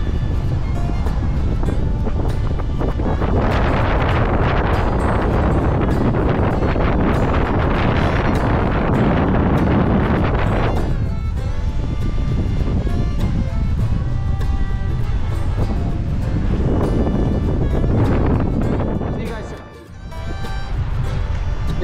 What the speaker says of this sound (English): So it's real windy day.